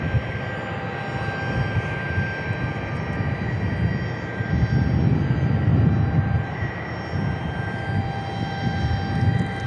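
Air National Guard F-16 jets flying at Tucson International Airport, a steady broad jet roar at moderate distance that swells louder in the middle of the clip before settling back, with no talking.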